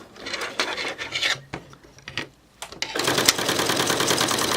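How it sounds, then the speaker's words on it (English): Sewing machine stitching fabric through an adjustable bias binder, first a few short halting bursts of stitching, then a steady continuous run of rapid stitching close by. "I will hold it beyond the edge of the fabric and stitch off"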